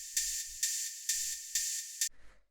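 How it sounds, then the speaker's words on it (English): A bright, hissy ride cymbal from an acid techno drum machine, not a usual 909 ride, hits five times in a steady rhythm, faint and alone, with a short soft tail at the end. "the last drum that I have here is just this ride"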